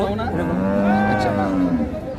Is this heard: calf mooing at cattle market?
yes